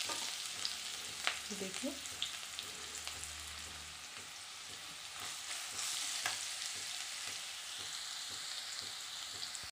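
Boiled carrots sizzle and fry in a kadhai for carrot halwa, a steady close crackle with stirring scrapes throughout, and a voice briefly speaks near the start.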